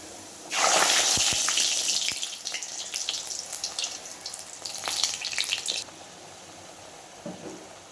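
Luchi puffing in hot oil sputter with a loud, bubbling sizzle that rises abruptly, churns for about five seconds with a few clinks, then drops to a faint simmer.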